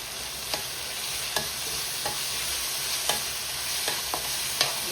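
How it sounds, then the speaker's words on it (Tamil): Ginger garlic paste sautéing in a pan for chicken fried rice, a steady close sizzle with light scraping stir strokes recurring about once a second, no talk. "பச்சை வாசனை போகும் வரைக்கும் அதையும் லைட்டாக அப்படி வதங்கிட்டுக்கணும்."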